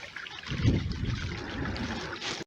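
A clear spring trickles and burbles out of rocks on a Peak District hillside, a soft, steady close-up flow of water, gently fluctuating and heard alone.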